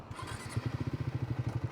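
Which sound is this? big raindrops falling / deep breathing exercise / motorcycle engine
motorcycle engine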